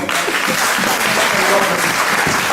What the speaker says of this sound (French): Vous pouvez applaudir le Seigneur pour lui